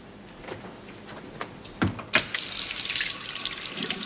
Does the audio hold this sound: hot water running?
yes